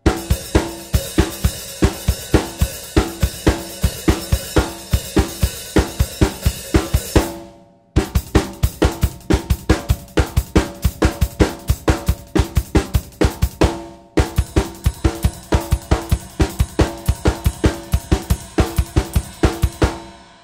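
Fast, even drum hits pound in rapid rhythm with cymbal wash, played in three loud bursts separated by brief pauses.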